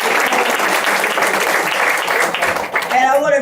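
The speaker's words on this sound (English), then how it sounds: "Let's please give them a big round of applause" Audience at a Hamilton County cancer caucus event applauding, a dense, steady round of clapping that fades as a voice starts speaking at the very end.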